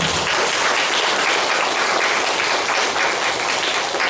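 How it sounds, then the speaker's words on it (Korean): A church congregation at a Korean farewell worship service claps for the kitchen volunteers. The applause is a thick, continuous roar of many hands, steady and fairly loud for the whole stretch, with no talking over it. "주방에서 우리 또 맛있게 따뜻한 밥 한 끼 식사를 준비하셨던 모든 식구들을 위해서 큰 박수를 부탁드리겠습니다"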